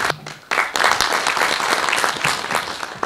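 Audience applause at a school award ceremony for a short-story competition, breaking out suddenly after a brief lull and continuing as a dense, loud, sustained wash of many clapping hands.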